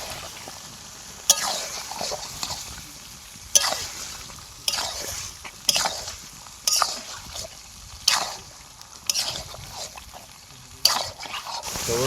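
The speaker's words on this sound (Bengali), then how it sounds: "ভালো করে কষবো এর মধ্যে হালকা পরিমাণে লবণটা দিয়ে দেবো ভালো করে কষবো" Chicken being sautéed with salt for butter chicken, a continuous sizzle in hot oil broken by about nine sharp scraping bursts as a spatula stirs the pan, close and clear.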